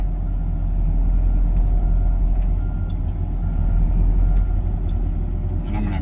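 A John Deere 50G mini excavator drives slowly down a trailer ramp, its diesel engine a steady, close, low rumble with faint clanks, and someone talks over it.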